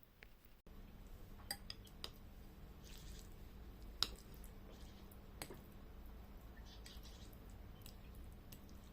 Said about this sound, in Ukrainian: я виковирюю саме авокадо із його шкурки, роздавлюю вилкою